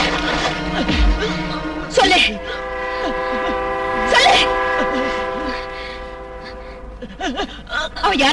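A train horn sounds in long sustained tones over a rumbling passing train, with brief voices and clatter mixed in.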